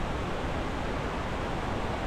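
Wahclella Falls, a 120-foot cascade in the Columbia River Gorge, gives off a dense, constant rushing roar heard up close, loud and unbroken until it cuts off abruptly.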